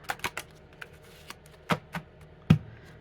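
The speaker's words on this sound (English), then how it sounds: "Give them a quick shuffle." A deck of angel cards being shuffled in quick bursts, soft papery riffles and taps scattered across a few seconds, close and fairly quiet.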